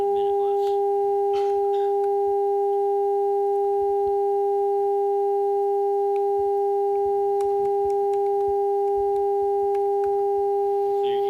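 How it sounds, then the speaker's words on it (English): Two steady test tones from a sound system hold constant pitches together, loud and unbroken, over faint background noise and brief clicks. "So I'll configure the system to look for those two tones."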